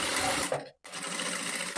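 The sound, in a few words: sewing machine stitching a blouse neckline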